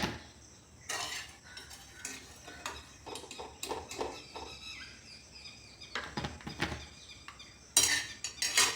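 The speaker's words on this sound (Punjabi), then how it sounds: "ਅਰਬੀ ਨੂੰ ਅਸੀਂ ਇੱਕ ਦੂਜੇ ਬਰਤਨ ਵਿੱਚ ਕੱਢ ਲਵਾਂਗੇ" Boiled taro pieces being lifted out of a cooking pot into another vessel, with a series of sharp clinks and scrapes of metal utensils against dishes at irregular intervals, fairly close and moderately loud.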